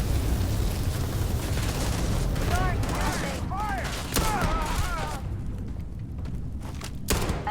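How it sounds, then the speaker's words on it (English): Video game combat fills the space with a continuous barrage of gunfire and explosive booms, loud and dense throughout, with a few sharp pitched whistles mixed in and a final burst near the end. "How did you survive that explosion?"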